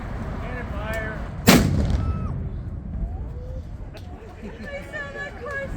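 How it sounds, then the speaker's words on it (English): A small ceremonial cannon fires once at a flag-raising ceremony at a historic site, a single sharp boom with a rolling tail, heard over a crowd murmuring and talking before and after. "and then a small cannon, big boom."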